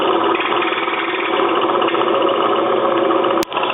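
A Van de Graaff generator's small electric motor runs steadily at intermediate speed, a continuous even whir with a dense buzzing texture throughout and one brief click near the end, with no talk.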